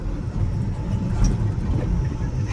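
Steady road and engine rumble from a diesel vehicle being driven along, a continuous low drone with no distinct events.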